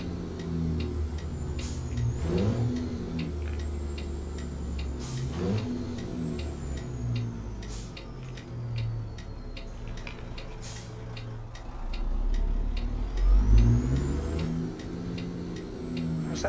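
A Peterbilt 389 truck in American Truck Simulator, with the throttle hanging up, its engine droning and swelling in pitch several times while rhythmic ticking and air hisses sound over the steady low rumble.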